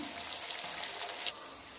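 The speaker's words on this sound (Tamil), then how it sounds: "ஒரு கடாயில் வந்து எண்ணெய் சூட் பண்ணிட்டு ஒரு மீடியம் ஹீட்டில் வச்சு இது வந்து நல்லா கோல்டன் ப்ரௌன் ஆகிற வரைக்கும் நம்ம வந்து ஃப்ரை பண்ணிக்கலாம்" Veg Manchurian balls fry in hot oil in a kadai over medium heat, giving a dense, even bubbling sizzle that stays fairly quiet and unbroken, with no speech.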